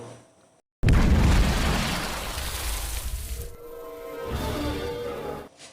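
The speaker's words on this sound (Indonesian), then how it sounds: "bom tersebut meledak di dalam kolam" A sudden loud bomb explosion inside a pond bursts after a brief silence, followed by a long rumbling roar that slowly fades, with a second swell near the end.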